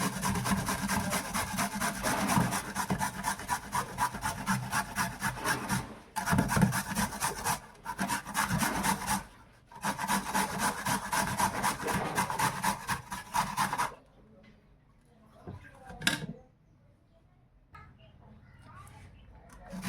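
Carrots for carrot halwa are grated in rapid, rhythmic rasping strokes, close and steady, with brief pauses. The scraping then gives way to quieter, scattered handling sounds.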